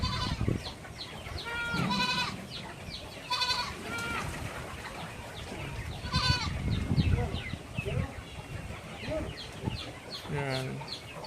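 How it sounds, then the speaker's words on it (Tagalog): Goats bleat repeatedly on a farm, several calls rising and falling at moderate distance, mixed with occasional chicken clucks and a steady outdoor bustle. "Ito na yung mga kambing natin guys."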